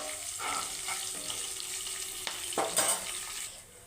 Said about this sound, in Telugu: పోపు వేసానండి ఒక గుప్పెడు కరివేపాకు వేసాను ఇది కొంచెం వేగిన తర్వాత